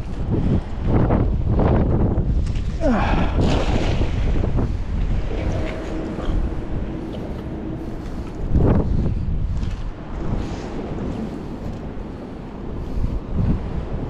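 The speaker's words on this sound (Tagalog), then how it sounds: "Malakas yung hangin." Strong wind buffeting the microphone in heavy gusts, rumbling and roaring throughout, with faint sounds of water and a boat in the background.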